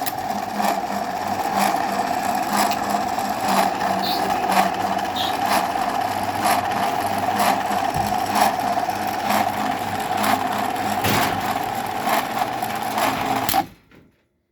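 A Genie 200 garage door opener motor runs continuously with a steady mechanical hum and rhythmic ticking clicks for about fourteen seconds before cutting off abruptly.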